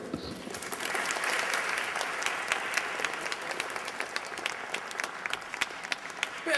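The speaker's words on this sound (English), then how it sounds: "Let's keep that applause going for George Russell" An audience applauds after a keynote speech by a State Street executive, a dense, steady wash of many hands clapping that carries on unbroken from start to finish, with no talk over it.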